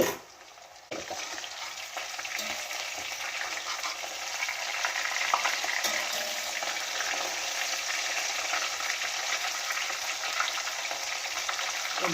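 Chicken 65 pieces frying in hot oil, a steady dense crackling sizzle that continues unbroken and fairly loud close by, with a small clatter near the start and no talking.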